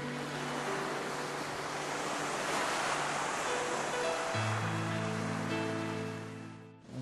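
Black Sea waves wash continuously onto the shore close by in a steady, soft surf with a little wind, and no one speaks over it.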